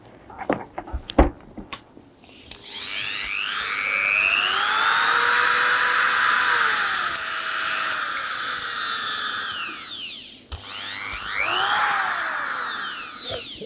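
Repaired Dremel 300 rotary tool running, a loud, close high-pitched whine that spins up after a few handling clicks, holds steady, briefly drops off and then revs up again.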